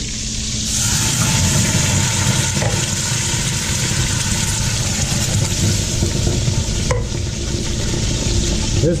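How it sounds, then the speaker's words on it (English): Canned tomatoes go into hot olive oil in a stock pot, giving a dense, continuous sizzle with stirring, a brief clink near the start and a sharper knock later; close and steady, with no speech. "So I'm going to add the tomatoes in."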